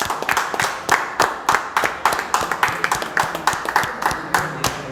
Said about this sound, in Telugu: కంగ్రాచులేషన్స్, చప్పట్లు.